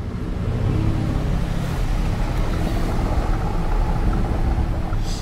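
A Lamborghini Urus SUV's steady, low engine rumble with exhaust drone, heard continuously from inside the moving vehicle with a window partly down.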